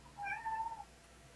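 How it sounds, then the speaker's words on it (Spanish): One cat gives a single soft meow, faint and somewhat distant against a quiet room hum, with no talking over it. "parece que oí un lindo gatito"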